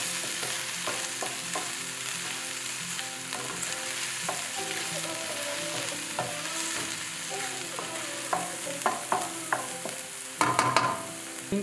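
About four tablespoons of garlic frying in a pan for a Trini fried rice, with a steady close sizzle, light stirring clicks and a few sharper utensil taps near the end, no talking.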